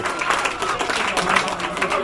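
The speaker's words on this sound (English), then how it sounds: "And the crowd are liking that." Crowd applause and cheering at a mixed field hockey exhibition match in Australia after a goal, steady clapping across the whole moment with a commentator's voice faintly mixed in.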